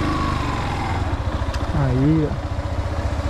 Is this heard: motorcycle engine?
yes